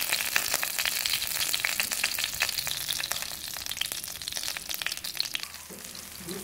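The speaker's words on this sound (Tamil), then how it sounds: "நல்லா பொரியட்டும்." Mustard seeds, urad dal and crushed cumin frying in hot oil, a continuous close sizzle dotted with sharp crackles and pops throughout, with no voices.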